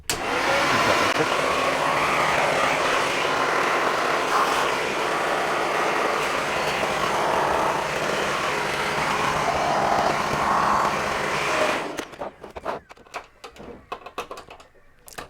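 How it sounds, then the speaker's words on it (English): A Dyson vacuum cleaner with its hose attached roars loudly and steadily for about twelve seconds while cleaning out a home PC, then cuts off, followed by faint clicks and handling. "This is a Dyson. Obviously we're going to be using the hose, so it's quite loud, by the way."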